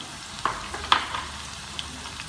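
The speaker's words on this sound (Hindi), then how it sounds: "चॉप की हुई प्याज डाल देंगे" Chopped onions hit a hot pan for chicken, giving a brief sizzle with a few sharp spatters and clicks over about two seconds, fairly close and with no talking.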